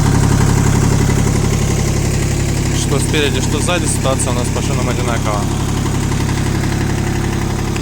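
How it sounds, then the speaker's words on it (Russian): A Kubota L120 mini tractor engine idles with a loud, steady low diesel rumble and fine vibration that runs unbroken throughout, while someone talks over it partway through. "В целом тракторочек, естественно, работает достаточно ровно, без каких-либо проблем."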